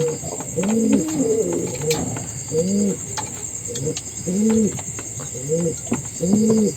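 Domestic pigeons in a breeding loft, with eggs and young chicks, coo close by in repeated soft, rolling phrases that come in a steady rhythm throughout.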